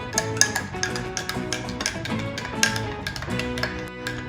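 A spoon stirs milky coffee in a cup, clinking against the sides in quick irregular taps and rattles, close and clear, over a ringing ceramic resonance.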